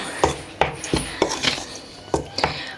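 Pizza dough being stirred in a bowl after a pinch of salt is added: a series of sharp, irregular scraping clacks of a utensil against the bowl, about eight strokes, close and moderately loud with quiet gaps between.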